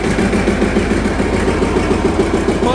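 A John Deere R tractor engine runs at a steady, loud, low idle, its even throbbing chug continuing close by without a break and with no talk.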